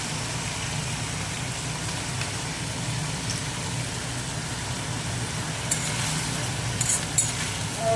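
Jute greens fry lightly in a pan, a steady rain-like sizzle throughout with a few faint scraping clicks toward the end, close and moderately loud.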